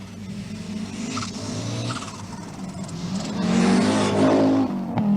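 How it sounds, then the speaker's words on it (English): Rally car engine from a four-wheel drive Audi on a wet Irish stage, a steady loud engine drone that builds and rises in revs toward the end, with no talk over it. "This kind of weather should really suit the four-wheel drive Audi"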